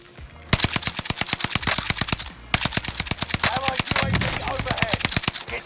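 Rapid automatic bursts from an NZ-41 rifle in a Warzone Rebirth Island match, loud and close, firing in sustained rhythmic strings with a brief pause midway, with faint in-game sound effects beneath.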